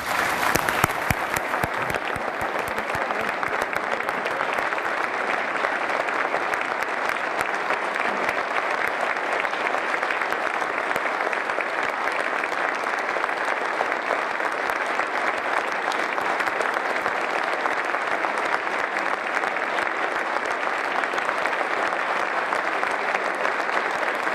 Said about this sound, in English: Please join me in a round of applause for the service of our veterans and active military